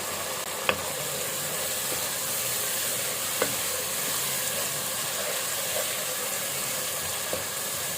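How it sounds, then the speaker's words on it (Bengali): Masala and a large ripe tomato sizzle in a pan with a constant soft hiss, broken by a few faint clicks of a spoon stirring against the pan. "মশলাটা কষিয়ে নিচ্ছি, এখন দিয়ে দেবো একটা বড় পাকা টমেটো।"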